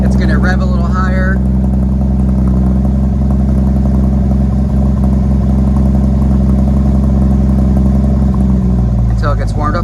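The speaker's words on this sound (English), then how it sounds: "It's started. It's going to rev a little higher." Cold-started 1984 Jeep CJ7 with a 258 engine and Howell TBI idles steadily nearby with a low, even engine drone and slightly raised revs, brief talk at the start and end.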